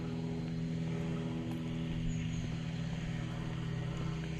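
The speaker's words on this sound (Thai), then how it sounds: "เสียงเครื่องบิน" A steady, faint drone of an airplane passing overhead sits under a constant low hum for the whole stretch, with no talk over it.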